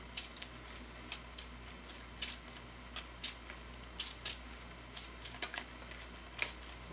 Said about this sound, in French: Je mélange la scheme twist avec mes cartes qui sont ici.